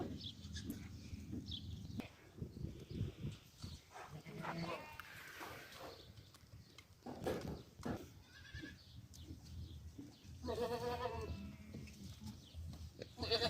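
Goats at a farm in Kuwait being fed wheat bleat repeatedly at close range, with rustling and someone talking over them.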